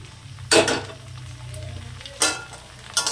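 Egg chow mein stirred in a pan, three loud scraping strokes against a low background sizzle, close and separated by short pauses.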